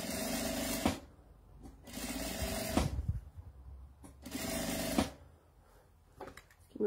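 Short bursts of a sewing machine stitching a lining, three close, loud runs of about a second each with quiet gaps, and soft handling noise at the end.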